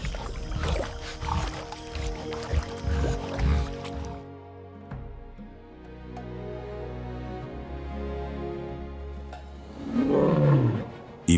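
A lion on the savanna roars, loud and close. The first few seconds are dense and rough, then a long, lower, steadier stretch follows, and a final harsh burst swells near the end, with no talking.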